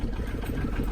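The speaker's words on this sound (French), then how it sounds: "La batterie du booster à elle toute seule a démarré le véhicule. Et c'est un diesel en plus." A diesel vehicle engine idles steadily just after a jump start from a portable booster battery, a low, even rumble close by with no talk over it.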